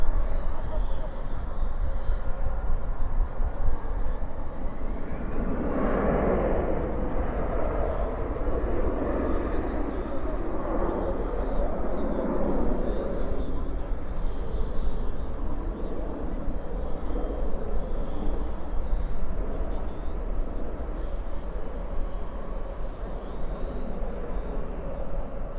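An airliner departing DFW airport at night, with a broad steady engine roar that swells and then holds, heard from a distance along with some talk.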